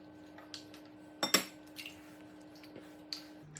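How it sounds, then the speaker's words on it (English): Two eggs cracked into a mixing bowl for banana bread, with sharp shell taps and clinks against the bowl and a cluster of louder knocks midway, fairly close and otherwise quiet. "now I'm gonna crack my 2 eggs into the bowl"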